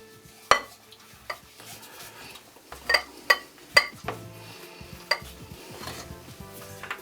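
Wooden spoon stirring flour into dough in a mixing bowl for a three-cheese pastry, giving soft scraping with several sharp knocks against the bowl at irregular intervals.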